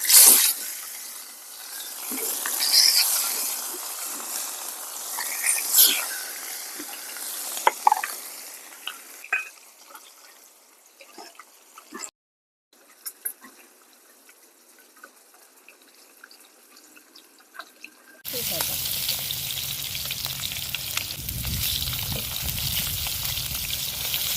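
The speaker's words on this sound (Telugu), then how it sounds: "ఇలానే వేయించుకోవాలన్నమాట అన్నీ ముక్కలు కూడా అన్నీ వేయించుకోవాలి" Steady frying sizzle of fish pieces with stirring and scraping in a clay pot over a wood fire, clattery at first, then quieter, ending in a louder, continuous hiss close by.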